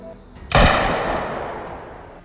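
A single loud pistol gunshot from a film scene cracks out sharply, then rolls into a long, broad echoing decay that fades over the next couple of seconds, with no talk around it.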